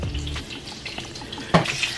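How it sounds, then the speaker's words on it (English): Parmesan-crusted chicken frying in a pan gives a soft, steady sizzle, with a brief louder crackle or clatter partway through and no one talking. "Our chicken has been frying for like 3 to 5 minutes on each side"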